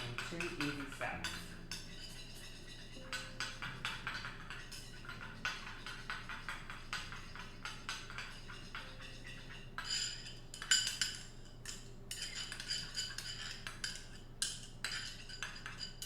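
Homemade mayonnaise being whipped in a bowl in a home kitchen, with a steady run of metal whisk clinks and scrapes against the dish, moderately close, over a low background hum.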